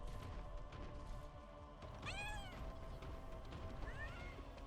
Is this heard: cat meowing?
yes